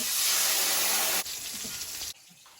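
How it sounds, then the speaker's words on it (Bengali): Water poured onto fried shukto in a pan sets off a loud, broad hiss that drops in steps and then fades to a quiet simmer. "শুক্তোটা ভাজা হয়েছে এবার জল দিয়ে দেব"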